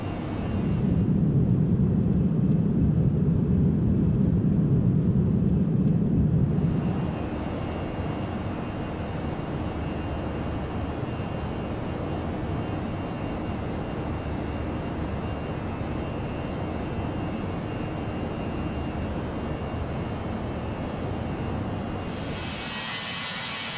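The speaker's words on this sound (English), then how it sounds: "The airplane will be climbing, doing its thing." Airliner engines in a flight simulator game, climbing after takeoff from St. Pete-Clearwater on an Allegiant flight: a steady broadband jet roar with a heavier low rumble at first, then an even, constant drone without speech.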